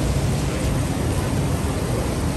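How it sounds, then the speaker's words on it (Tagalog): Steady rain pours down outside near a building entrance, a dense, even hiss of falling water with no breaks, close and moderately loud throughout. "Umuulan kasi ngayon, oh."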